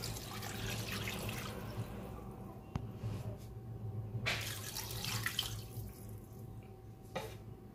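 Water runs from a tap into a cooking pot during a chicken-and-onion-sauce recipe, a soft steady splashing stream with a couple of sharp clinks and short bursts, faint and without talk.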